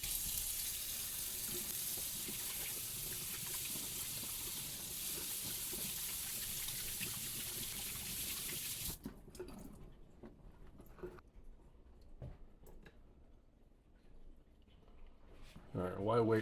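Cold tap water runs steadily for about nine seconds while a Bonanza reactor cup is rinsed for Floetrol cell-dye paint pouring, then cuts off to quiet handling noises and drips.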